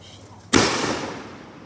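A single loud Independence Day firework bursts outdoors after a short quiet moment, a sharp bang whose crackling decay trails off over about a second.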